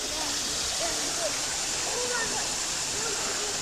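Water flowing steadily at Natural Bridge, Virginia: a broad, continuous rushing roar of a stream, with indistinct voices of a crowd faintly mixed in.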